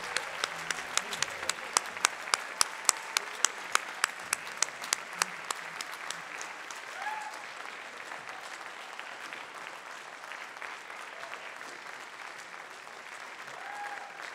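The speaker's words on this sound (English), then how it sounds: "Round of applause for all the musicians" An audience applauds after a live concert at an arts center, loud sharp claps at first that settle into a sustained, softer wash of applause with a few crowd voices and cheers mixed in.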